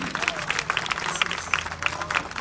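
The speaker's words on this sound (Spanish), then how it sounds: "¡Aplausos!" An audience at an outdoor political campaign rally applauds, a dense steady patter of clapping hands with faint crowd voices mixed in.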